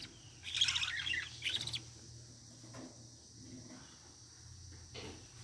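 Budgerigars in an aviary give bright, quick chirps in two short bursts near the start, then fainter scattered calls over a low steady background hum.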